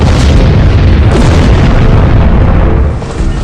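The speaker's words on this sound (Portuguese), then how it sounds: "ouvi mais explosões" A loud, sustained explosion roars with deep booming rumble and broadband blast noise inside World Trade Center Tower 7 during the September 11 attacks, fading slightly near the end.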